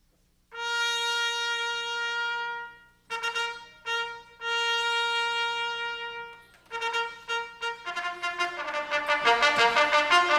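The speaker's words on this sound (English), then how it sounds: "He's going to change the notes by blowing and by pressing those little valves there." Bright trumpet playing alone, starting with long held notes, then short separated phrases, ending in a quick run of rapid tongued notes.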